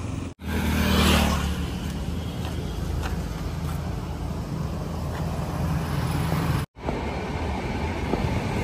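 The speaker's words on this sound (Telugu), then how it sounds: "ట్రైన్ వెళ్తుంది చూసుకోవచ్చు" A train rolls along a railway track beside a roadside walking route, a steady loud rumble with rhythmic wheel clatter holding for several seconds, briefly cut twice.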